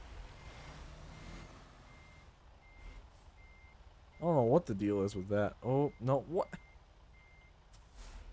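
Steady, evenly spaced reversing beeps from a used Kenworth truck in American Truck Simulator repeat throughout, while someone talks in the middle.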